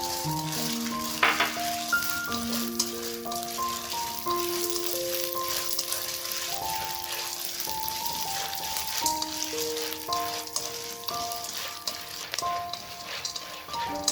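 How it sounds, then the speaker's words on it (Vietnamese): Corn kernels crackle and pop in sizzling hot oil throughout, making popcorn in a loosely lidded pot, with a light melody playing alongside. "Dầu ngô nó nổ thì mình sẽ cho vung lên và không đậy kín"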